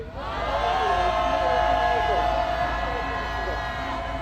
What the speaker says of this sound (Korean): 미대사관을 향해서 함성 한번 질러보겠습니다.